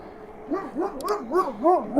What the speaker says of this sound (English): Dogs always love me driving through here.